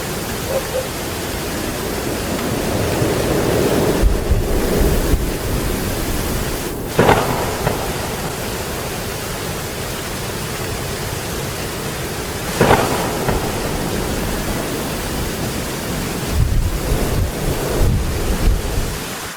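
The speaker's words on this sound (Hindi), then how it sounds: "अब तो लगता है कि ये बारिश रुकने वाली नहीं है।" Steady, dense rainfall hisses throughout, with occasional low rumbles of thunder rolling in the background.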